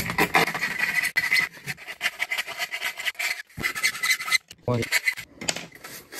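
A flat file rasps back and forth in quick, irregular strokes, producing close, scratchy scraping sounds with brief pauses between passes, while installing a permanent puck light.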